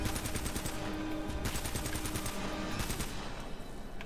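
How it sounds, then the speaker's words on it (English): Sharp repeated gunshots from a sniper rifle in the game Uncharted: Drake's Fortune, several cracks in close succession over a busy, fairly faint combat background. "I'm gonna use a sniper for that guy"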